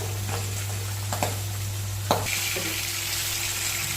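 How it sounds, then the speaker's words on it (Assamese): Fish sizzling in hot oil in a wok, frying for an Assamese banana-soda fish curry. The hiss is steady and close, with a few sharp clicks and a low hum underneath, and no one speaks. "কেৰাহীত তেল দি দিলোঁ এতিয়া হালধি নিদিয়া মাছখিনি মই ইয়াতে ধুনীয়াকৈ ফ্ৰাই কৰি লওঁ"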